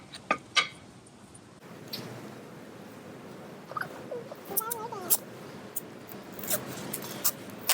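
Tape is pulled and wrapped around a pool noodle rocket in a series of short, scratchy ripping bursts. Quiet handling noises sit between them, and there is faint background talk.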